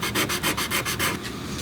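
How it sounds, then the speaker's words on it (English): Sandpaper rubbing back and forth over a wooden chair joint to clean off old glue, a steady rhythm of about eight close, raspy strokes that grow slightly softer toward the end. "we'll follow up with a little bit of sandpaper just in the area that I want to glue together"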